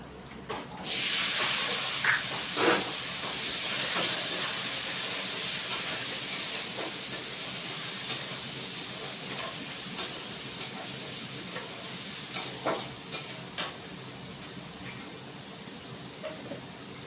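Peas tipped into a hot pan with potato and paneer for a vegetarian dish, giving a steady close hiss of sizzling oil with scattered crackles and pops throughout.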